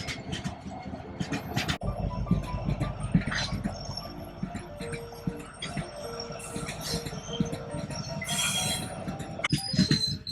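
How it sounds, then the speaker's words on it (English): A very long freight train pulled by two engines rolls steadily past in Western Australia, with rumbling wheels, rhythmic clacking and occasional metallic squeals, fairly loud and continuous throughout. "And you still can't see the end of the train."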